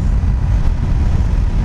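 A 2017 Honda CBR500R motorcycle engine gives a steady low rumble, mixed with wind buffeting while riding, with no talk.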